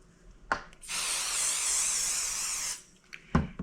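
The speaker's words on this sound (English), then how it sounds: "Now I'm going to take my 505 temporary adhesive spray" A can of 505 temporary adhesive spray lets out a single steady spray for about two seconds, close and loud, with a few sharp handling clicks just before and after.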